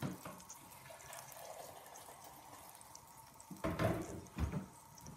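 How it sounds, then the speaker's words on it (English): Water poured into a pot to top up beef stock for a slow-cooked beef topside, heard as two short splashing bursts near the end after a quiet stretch of faint background, close to the mic. "So I didn't have enough beef stock there, so I'm just topping it up with some water."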